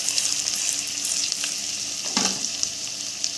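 Tomato paste sizzles steadily in hot oil as a shrimp malai curry is fried, a continuous bright hiss with a brief louder burst of spitting midway, close and alone with no voices.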